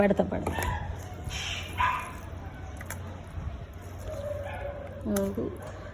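Hungry street dogs yip, whimper and give short barks while being fed outdoors, the sounds fairly faint and scattered amid a person talking.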